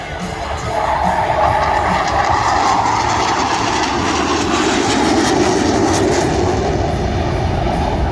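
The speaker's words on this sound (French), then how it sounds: "Des avions de construction amateur, les Vance RB8" Amateur-built Vans RV-8 propeller planes fly at a night air show in Méaulte, a loud continuous engine roar with a broad rushing drone holding steady throughout, close and unbroken, without talk.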